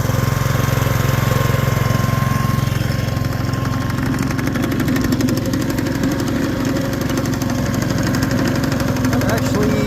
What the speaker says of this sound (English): One full cold engine, it started right up